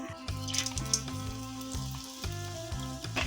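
Whole spices, cinnamon, star anise, cardamom seeds and cloves, frying in hot oil for chicken curry, a close, continuous crackling sizzle with a steady pulsing rhythm, alone without talk.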